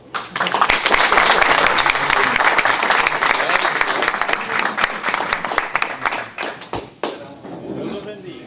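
A room of attendees at a weekly technical breakfast on bank account seizures bursts into sustained applause, dense clapping lasting several seconds before tapering off near the end.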